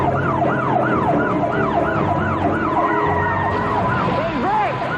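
A police car siren wails in a fast, steady up-and-down cycle during a highway chase, loud and close over a rumbling engine, with a second siren faintly overlapping near the end.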